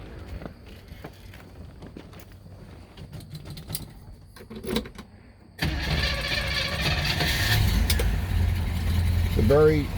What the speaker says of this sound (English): It's a very docile running car. It's not loud. It's not rumbly.